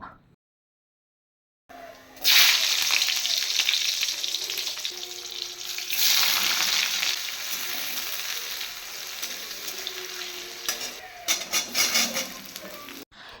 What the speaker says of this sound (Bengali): এখন বেগুনটাকেও আলাদা করে একটু ভেজে নিব